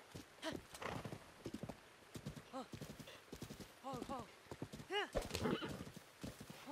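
Hooves clip-clop and a horse neighs in the video game The Legend of Zelda: Breath of the Wild, quick hoof beats with a couple of whinnies, under someone talking throughout.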